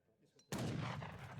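Gatling gun fire in the strategy game Age of Empires III, a sudden loud burst of rapid gunfire that starts sharply after a quiet moment and rolls on continuously to the end.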